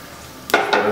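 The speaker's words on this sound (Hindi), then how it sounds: "हमारा तेल गर्म हो चुका है और इसमें डालेंगे हम ये जीरा।" Cumin seeds hit hot oil in a pan, setting off a sudden loud sizzle about halfway through that keeps hissing steadily, with a second crackling surge just after, and no talking.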